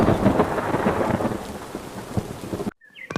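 Heavy cartoon rain pours steadily while rumbling thunder rolls through it, loud and close, then the storm cuts off abruptly into near silence with a brief tonal chirp.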